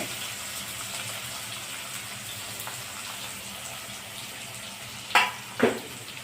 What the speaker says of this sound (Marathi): आता जिरे तड तडले आपण कांदा घालत आहोत टमाटा आणि कांदा